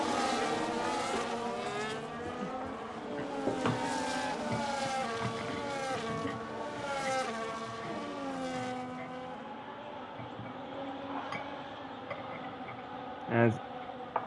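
Formula 1 race cars in the F1 video game at the China round, with both Ferraris in a DRS battle: whining engines rise and fall in pitch as several cars pass, then fade toward the end, with one short knock.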